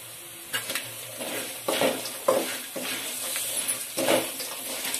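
Spice powder being stirred into fried peanuts and chana dal with dried red chillies for puliyogare gojju, giving a steady low sizzle broken by repeated scraping, clinking spoon strokes against the pan, close and without talk.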